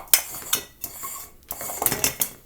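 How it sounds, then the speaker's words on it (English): A dome lid being screwed back onto a homemade grow light box, giving a series of close, sharp scraping and clattering clicks in quick uneven bursts with brief pauses between turns. "Then I'm going to screw my lid back on."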